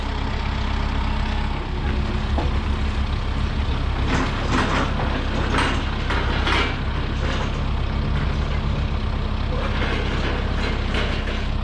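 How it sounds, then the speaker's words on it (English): A heavy truck engine rumbles steadily and loudly nearby, with a hiss of air brakes and some clatter partway through, while a tractor runs in the background. "I'm about to move the truck out of the way"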